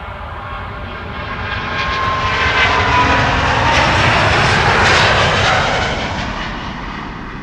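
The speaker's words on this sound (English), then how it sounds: "on paper these airplanes are now taking off with a little bit of tailwind" Airliners taking off at Amsterdam Schiphol Airport with a light tailwind, a loud broadband jet roar swelling as an aircraft passes close by, peaking mid-way and then easing off, with no voices.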